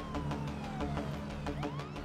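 A police car siren wails in rapid rising and falling sweeps, loud and close, sounding alone with no talk over it.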